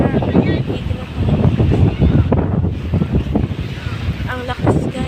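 A strong flooded river current surges and roars, buffeted by heavy wind noise with uneven gusting rushes, while a person talks over it.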